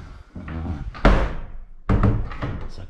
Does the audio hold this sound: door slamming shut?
yes